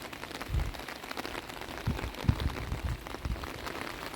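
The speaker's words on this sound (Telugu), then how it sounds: "గార్డెన్ చూడండి వర్షం పడుతుంది" Rain falls on a terrace garden with a soft, steady patter, and a few louder drops thud nearby on the surfaces, fairly quiet with no voices.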